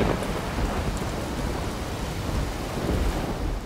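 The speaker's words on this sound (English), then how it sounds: "forming clouds and rain" Rain falls steadily in a dense, even hiss with low rumbling like distant thunder beneath, a continuous storm sound with no voices.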